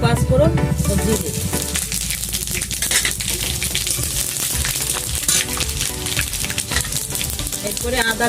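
Panch phoron and cumin sizzle in hot mustard oil with bay leaf and dried red chillies for a vegetable khichuri, a steady crackling fry under background music.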